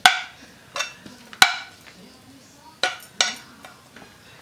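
A utensil spreads onions over a quiche base, with sharp clinks and taps against the dish at irregular intervals, separated by quiet pauses.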